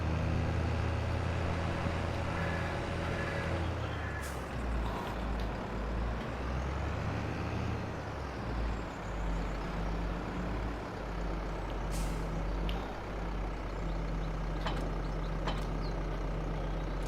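A tractor engine idling and running in Farming Simulator 22, a steady low mechanical drone with hiss and air-release bursts and a few sharp clicks, close and continuous, with no talk.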